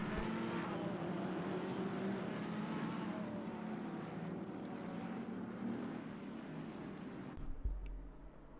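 GT3 race cars rolling around Monza on a formation lap in Assetto Corsa Competizione, a steady blended engine drone that holds at an even level, then a louder rumble and thump near the end.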